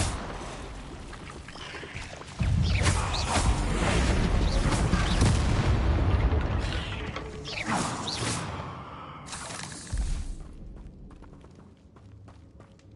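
A Bombarda explosion spell goes off in Hogwarts Legacy, a loud sustained blast with rushing, roaring debris and whooshes that builds and then trails off into quieter rumble.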